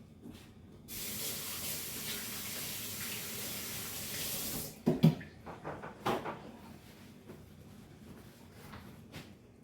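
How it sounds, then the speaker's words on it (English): Hands washed under a running kitchen sink faucet, a loud steady hiss of water for several seconds, then the tap shuts off and a few wet splashes and rubbing sounds follow, no talking. "Let me wash my hands right quick."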